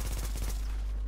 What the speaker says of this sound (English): Just don't really like the shotgun.